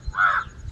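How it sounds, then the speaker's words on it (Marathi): A crow gives a single harsh, nasal caw at close range, loud and clear, with another call beginning right at the end. "कावळ्यांचा आवाज आहे, येतोय,"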